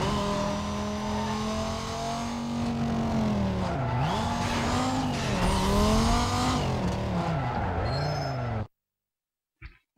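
A Porsche Cayman S in Need for Speed: Most Wanted, its engine droning steadily with rising and falling revs and shifting pitch, loud and close, cutting off abruptly near the end.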